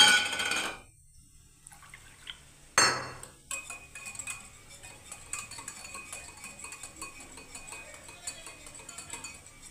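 Water poured into a bowl while rinsing during doi bora preparation: two brief splashing pours, the first at the start and a second a few seconds later, followed by soft clinks of utensils against dishes.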